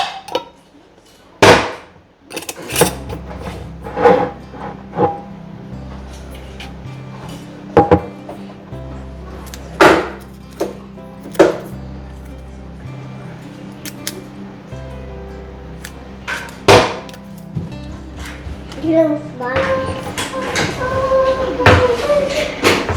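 Plastic lids are pressed and snapped onto storage containers at home, giving a series of sharp clicks and knocks at irregular intervals, some louder than others, with light clattering handling noise between them.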